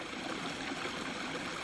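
Water trickling in a small garden water feature where a Gulf Coast toad sits: a steady, close, hissing babble of running water with no pauses.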